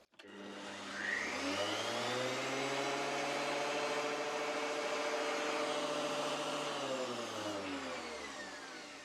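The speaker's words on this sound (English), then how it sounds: "Let's just plug it in and give it a a rotate, make sure everything is driving okay." A thickness planer fitted with a new helical cutter head spins up with a rising whine, holds a steady humming drone with tonal overtones for several seconds, then begins to wind down, with no speech.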